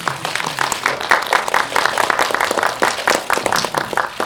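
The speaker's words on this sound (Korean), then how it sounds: "여러분 박수 한번 부탁드립니다" An audience at a film press screening for the movie Curtain Call applauds, a loud, fairly close burst of many hands clapping steadily for several seconds with no speech over it.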